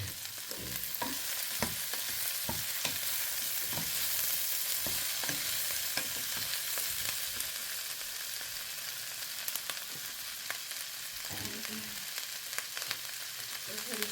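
Food sizzles in a pan while a utensil stirs it, giving a steady hiss broken by repeated scraping strokes throughout; close and continuous, with no talking.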